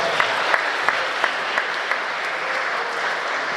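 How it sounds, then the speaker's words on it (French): An audience at a baptism and first communion celebration applauding, a dense continuous clapping with faint rhythmic peaks and no clear voices. "acclamez très fort"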